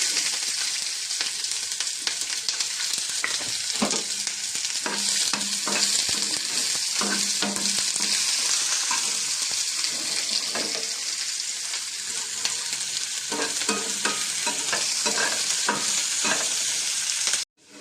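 Onions for a mushroom stir fry sizzle steadily in a pan while a utensil scrapes and stirs through them in repeated strokes, close and clear with no talking.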